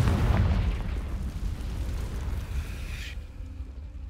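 A Confringo fire spell blast in Hogwarts Legacy erupts as a heavy, rumbling burst that rolls on for about three seconds before cutting off to a faint hum; loud and near, with no talking.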